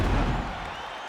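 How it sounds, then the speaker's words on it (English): Arena crowd in EA Sports UFC 5 applauding and cheering after a round with a knockdown, a dense, steady roar of clapping that gradually eases off. "So the crowd voicing its appreciation after that round."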